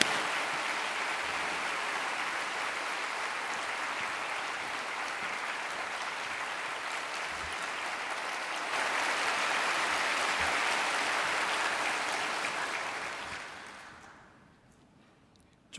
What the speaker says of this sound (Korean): 우리 감사의 마음을 담아서 큰 박수로 모시겠습니다